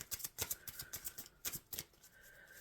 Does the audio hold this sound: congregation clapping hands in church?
no